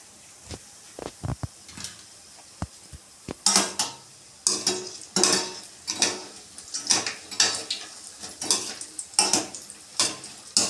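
Gulab jamun balls made from potato and wheat flour go into hot oil, a few soft taps followed by a steady crackling sizzle with repeated utensil scrapes and stirring clinks close by.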